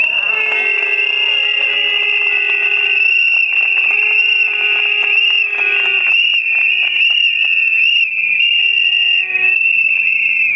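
Many shrill whistles blow loudly and almost continuously from a protest crowd in Mostar, overlapping piercing tones with a few brief breaks, with voices faint beneath.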